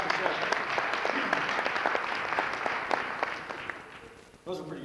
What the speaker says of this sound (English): Round of applause, please, people.